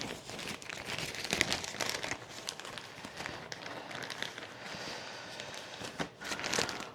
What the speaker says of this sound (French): mon paton, tout simplement, je vais le recouvrir encore de la charlotte.